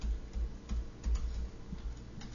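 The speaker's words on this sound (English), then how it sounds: "I'm going to type in the heading here" Soft keystrokes on a computer keyboard while a spreadsheet heading is entered, with faint, irregular clicks over low thumps and a quiet room background.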